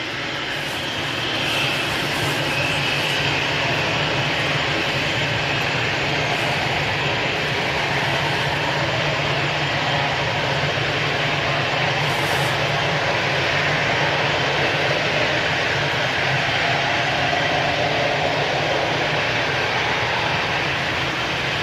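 A Lufthansa Airbus A320 jet at Manchester Airport, a steady broad engine roar held throughout at moderate distance with no talk.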